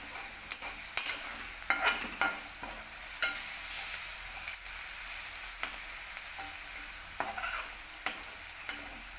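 Spatula stirs through ingredients sautéing with salt in a hot pan: a soft continuous sizzle broken by repeated scraping strokes, close and moderately quiet, with no voices.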